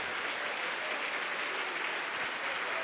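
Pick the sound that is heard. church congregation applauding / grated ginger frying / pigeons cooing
church congregation applauding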